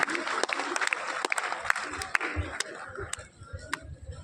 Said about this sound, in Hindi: एक बार जोरदार ताली बजाकर उनका स्वागत और अभिनंदन।